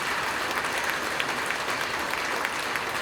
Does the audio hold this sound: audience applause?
yes